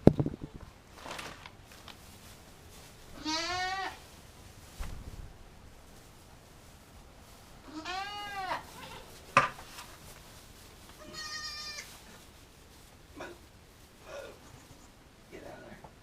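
Goats on a winter farm give several wavering, harmonic bleats at intervals, fairly near, with low rustling and occasional knocks in between and no talk over the calls.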